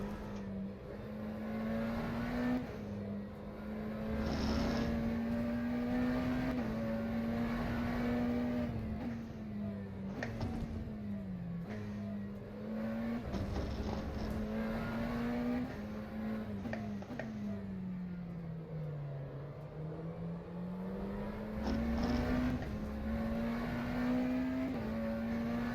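A McLaren Senna GTR in the rFactor 2 racing game laps Imola, its engine note rising and falling through gear changes and corners, a steady moderate drone with occasional brief bumps and clicks.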